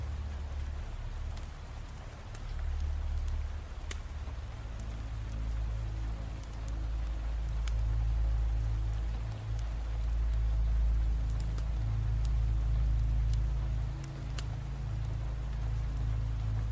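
Steady rain falls continuously, a soft even hiss with a low rumbling undertone and occasional sharper drop taps, with no voices.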